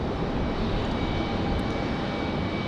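Southwest Boeing 737-800 jet climbing away from Raleigh-Durham International on departure to Las Vegas, a continuous, loud, rushing engine roar with deep rumble and no breaks or voices.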